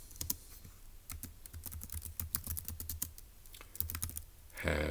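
Fingers type on a computer keyboard in rapid, close-up bursts of crisp keystroke clicks, with a brief louder clatter at the very end.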